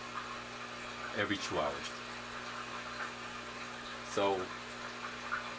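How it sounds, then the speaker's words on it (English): An aquarium bubbler aerates the water of a Cephalotus pitcher-plant grow system, giving a steady soft bubbling hiss over a low hum that runs beneath someone speaking. "the bubbler is going to be coming on for 30 seconds"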